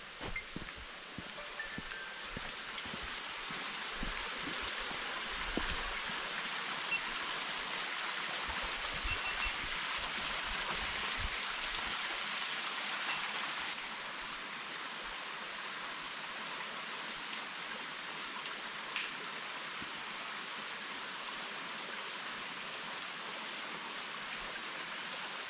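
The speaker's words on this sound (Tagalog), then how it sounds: "May ilog. Ang lakas ng lagaslas." A river near a trekking area at a farm resort in Lucban, Quezon rushes as a dense, steady wash of water noise, continuous and fairly loud throughout, easing slightly partway through.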